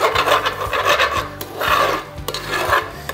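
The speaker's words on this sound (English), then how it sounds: "I'm just gonna scrape all that goodness off the bottom of it." Utensil scraping browned fond off the bottom of a hot pan of simmering beef stew, loud rhythmic rasping strokes repeating several times up close, with no talking.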